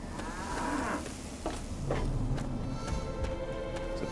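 Cattle in the video game Wasteland moo several times, low drawn-out calls that overlap at close to middle distance over a steady ambient background.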